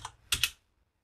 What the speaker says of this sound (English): within the terminal, it's simply a matter of typing Composer Update